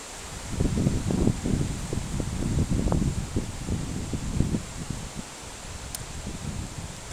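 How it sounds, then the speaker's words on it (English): Wind gusting through leaves, a dense rustling that swells and eases in waves, fairly close and loud, with a low blustery rumble underneath. "you can hear the wind because it's definitely windy right now"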